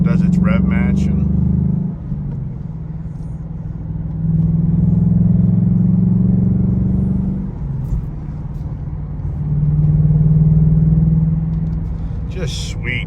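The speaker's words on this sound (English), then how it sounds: "If you miss a gear, it does its rev match" A gasoline car engine revs up and settles several times in swells, with automatic rev-match blips between gears; a voice speaks at the start and end.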